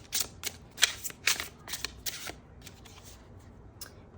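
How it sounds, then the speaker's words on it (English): Tarot cards are shuffled and drawn in a run of quick, crisp riffling bursts and flicks, close and fairly quiet, that thin out into softer handling. "Now let's pull some next cards."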